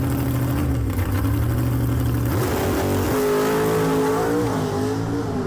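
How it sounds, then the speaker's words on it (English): A loud drag race car engine at Atco Dragway roaring hard under acceleration, its pitch climbing, dropping sharply at a clean gear change, then climbing again, with no talking. "You can hear it shift nice and clean again, really snatches the motor down in between gears"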